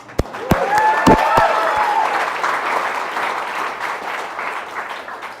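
An audience bursts into loud applause that swells quickly and then holds steady, with a few cheers near the start.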